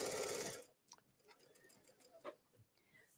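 Sewing machine stitching elastic onto a skirt, running in a dense whirring burst for about half a second before stopping, followed by faint handling sounds.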